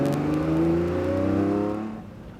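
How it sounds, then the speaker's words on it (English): A Ferrari Testarossa driving past, its engine a rising then falling whir that swells loud and close, then fades away within a couple of seconds. "Ferrari Testarossa there,"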